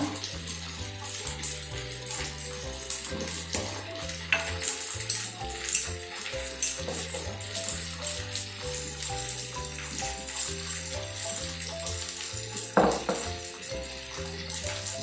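Paneer fries with chilli, turmeric and salt in a pan, a crackling sizzle with occasional stirring scrapes, heard beneath a steady rhythmic background music track.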